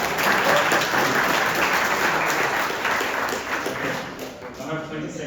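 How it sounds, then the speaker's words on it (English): Hackathon audience at a robotics pitch event in Munich breaks into a round of applause for the organizers, steady dense clapping from a sizable room that fades slightly near the end. "A round of applause for all the organizers."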